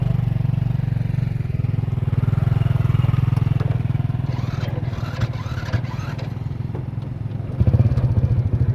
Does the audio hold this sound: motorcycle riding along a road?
yes